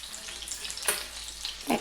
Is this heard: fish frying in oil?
yes